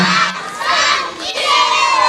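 A school crowd cheers and shouts at a kung fu show, a dense, continuous roar of children's voices with bursts of excited yelling and no single clear speaker.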